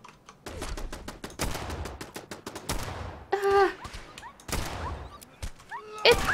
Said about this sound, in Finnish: Miksi sinä ammut mua?